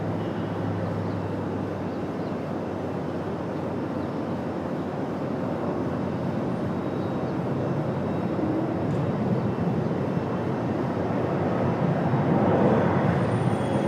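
A JetBlue Airbus A220 jet airliner at Raleigh-Durham International Airport, heard as a continuous broad engine roar that holds steady and swells slightly near the end, with no one speaking.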